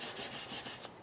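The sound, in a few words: wet sanding a model with 3000-grit sandpaper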